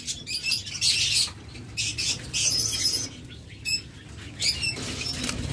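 A pair of green opaline split blue lovebirds call from close by: shrill, rapid chirps come in bursts separated by short pauses, with light rustling and fluttering between them.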